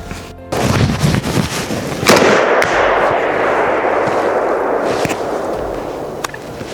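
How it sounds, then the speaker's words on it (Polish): A hunting rifle fired in the Pyzdry forest during a hunt: a loud, close crack followed by a long, broad rumbling echo that fills the rest of the moment. "Miałem go w krzyżu i, i strzeliłem w drzewo."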